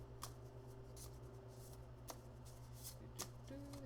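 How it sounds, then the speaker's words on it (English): Large oracle cards being shuffled by hand during a tarot reading make soft, quiet riffling and slapping bursts, several brief card snaps at irregular intervals over a low background hum. "These ones are so big, they're hard to shuffle sometimes."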